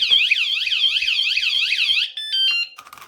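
A motion-triggered bicycle alarm wails loudly in rapid rising-falling electronic sweeps for about two seconds, then gives a few shorter beeping tones.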